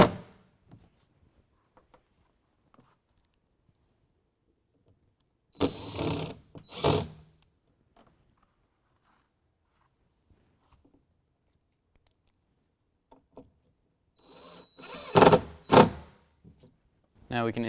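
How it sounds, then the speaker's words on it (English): 3/4-inch screws being driven into pre-drilled holes while installing a DECKED truck bed storage system on a 2016 Toyota Tacoma: two short bursts of close, loud whirring from a power driver, separated by long quiet stretches. "Now we're going to take a 3/4-inch screw and place it on each of those holes that we drilled."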